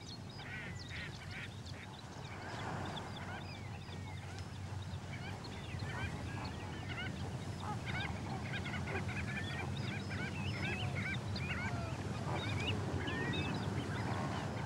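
Large flocks of waterbirds at Lake Ichkeul, a freshwater lake, fill the air with dense overlapping honks, quacks and calls, a constant busy chorus at middle distance over a steady low background rumble.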